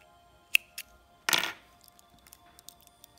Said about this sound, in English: And we cut the string.